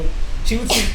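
A single sharp sneeze bursts out in the second half of the clip, close and loud, right after a short stretch of speech.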